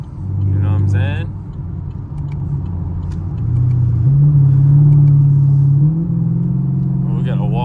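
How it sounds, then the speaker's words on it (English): Chevrolet Camaro SS engine on a night drive, a steady deep rumble that rises and shifts pitch as it accelerates through gears, loud and close from inside the car, with brief talk near the start and end. "Roll that up so y'all can hear more of the car."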